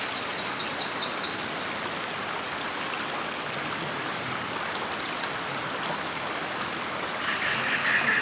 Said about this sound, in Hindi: जो ये पानी बह रहा है मुख्तलिफ़ छोटी नदियों की शक्ल में